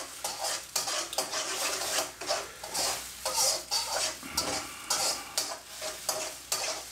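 Eggs sizzle and fry in a hot pan for egg fried rice, with a metal utensil stirring and scraping steadily throughout, a close, continuous crackle punctuated by rhythmic clinks against the pan.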